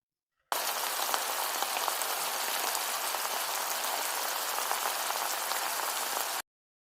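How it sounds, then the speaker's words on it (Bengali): Layered spicy snacks, like gaja, deep-fry in oil over medium-low heat, giving a dense, even sizzle that holds steady for about six seconds and then cuts off. "খুব সুন্দরভাবে ভেজে নিচ্ছি, চুলার আঁচটা মিডিয়াম টু লো হিটে রেখে একটু সময় নিয়ে ভেজে নিব।"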